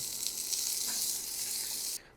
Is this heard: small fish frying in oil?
yes